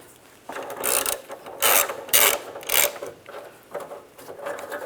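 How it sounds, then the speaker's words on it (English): A ratchet with a 13mm socket loosens a fuel tank strap bolt on a 2005-2007 Ford Five Hundred, giving several close, loud bursts of rapid pawl clicking with short pauses between strokes. "In the front of the gas tank, we're going to take this bolt out,"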